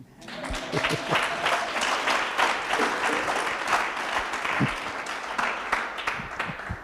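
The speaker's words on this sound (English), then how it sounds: "we give him a round of applause" A round of applause at a money-management chat with the founder of IMA Events rises quickly into a full crowd of steady clapping that holds at moderate loudness, with a few louder individual claps standing out.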